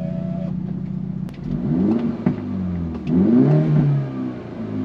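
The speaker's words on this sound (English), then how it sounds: "a few pops and bangs, and it does sound very aggressive even at idle" A Mini Cooper S (F56) engine rumbles and revs in a couple of rising surges, with a sharp crack of an active exhaust pop in between, close and loud.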